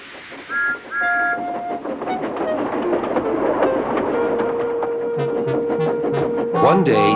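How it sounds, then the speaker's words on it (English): A steam locomotive lets off steam with a long broad hiss, joined by whistle-like tones and rail clatter, loud and close, while voices talk over it. "Thomas let off steam loudly"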